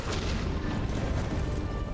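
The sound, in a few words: explosions in the video game Hollow Knight: Silksong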